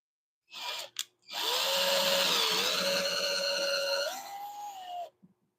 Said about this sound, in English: drill a little bitty hole in here